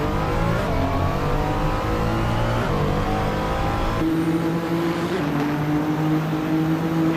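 A GT3 racing car engine in a video game at Suzuka roars steadily, its pitch climbing and dropping as gears shift, loud and close with no voices.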